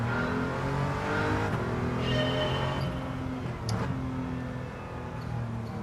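A nearly 50,000-mile Audi TT VR6 built into a race car, with a 60-40 drive split, revs hard in Gran Turismo 7. Its engine drones loud and steady, the pitch climbing and falling through shifts, with a faint tire or chassis noise and no talk.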